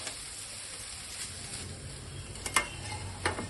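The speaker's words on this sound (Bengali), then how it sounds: "ভালো করে আমি মিশিয়ে নিচ্ছি।" Cooked rice is stirred and fried in a pan with a soft, steady sizzle, faint and close, broken by a few sharp scrapes of the spoon.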